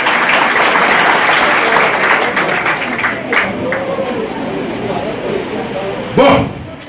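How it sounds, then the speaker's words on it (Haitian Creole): An audience claps loudly for a school group at a Haitian voice performance. The dense applause fades gradually as voices rise over it, and a sharp thump lands near the end. "On va applaudir collège Jean-Baptiste Lapé."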